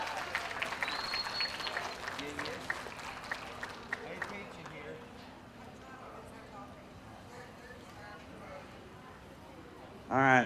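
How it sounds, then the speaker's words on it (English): A crowd applauds at a school livestock show's cattle judging, scattered clapping fading over the first few seconds as a speaker's voice carries across the arena, then near silence before a sudden loud burst at the end. "Let's give him another round of applause and give all these other exhibitors a round of applause."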